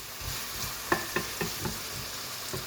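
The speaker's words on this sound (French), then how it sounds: "Donc on laisse bien saisir les pommes de terre" Potatoes searing in a tagine-style pot with a soft, continuous sizzle, punctuated by several distinct knocks and scrapes of stirring close by, with no talking.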